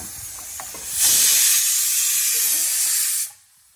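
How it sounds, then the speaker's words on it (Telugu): Onion fries in a pan with a loud hissing sizzle that rises suddenly, holds steady for about two seconds and then drops away, after a few faint knocks; no talking. "ఉల్లిపాయ ఫ్రై అవుతుంది"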